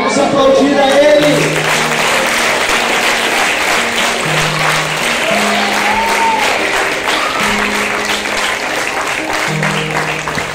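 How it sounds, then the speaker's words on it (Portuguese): A church congregation claps together in steady, dense applause that holds close and loud throughout, with sustained music and voices layered underneath. "Vamos aplaudir a Ele."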